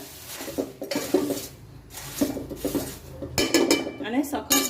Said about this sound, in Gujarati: હલાવતા જ રહેવાનું છે નીચે ચોંટી ના જાય